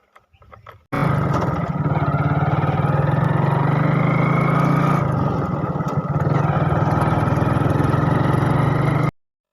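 A motorbike engine hums steadily while riding home, a loud, continuous low drone that holds from about a second in until it cuts off near the end, with no talking.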